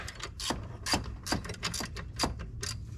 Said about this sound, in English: we do that by tightening up this bolt here